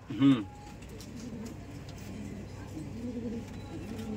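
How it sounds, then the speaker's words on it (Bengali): Rajshahi Girabaz pigeons coo softly at a pigeon gathering, one brief louder coo near the start and then faint low murmurs under background noise. "এই যেগুলো আরো আছে কবুতর, কবুতরের মেলা কবুতর, কবুতরের রাজ্য।"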